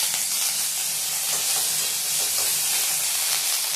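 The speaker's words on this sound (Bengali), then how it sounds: "আদা বাটা লঙ্কা বাটাটা ভাজা হয়ে গেছে" Ginger paste and chili paste fry in a small amount of salted oil in a pan, giving a steady, close sizzle with soft stirring scrapes throughout and no voices.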